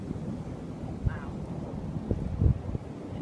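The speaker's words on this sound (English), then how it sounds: "It's really windy." Strong gusty wind during a spring thunderstorm, a rough buffeting roar against the microphone with several louder gusts, and a voice heard briefly.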